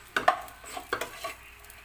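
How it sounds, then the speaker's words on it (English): Sabudana khichadi stirred in a cooking pan: a few soft scraping and clinking strokes of a utensil against the pan, close and fairly quiet, with a faint sizzle beneath and no voices. "mixing it so it doesn't go burn down from the bottom"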